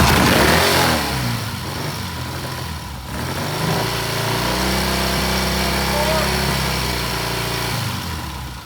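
An engine revving as the throttle is opened, a loud rising and settling mechanical drone with steady harmonics, and people talking over it.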